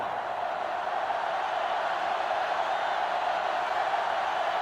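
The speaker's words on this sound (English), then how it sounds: "this crowd is going absolutely insane" A huge stadium crowd roars in NCAA Football 2005 on GameCube during Michigan versus Florida, a steady, dense wall of noise with no breaks.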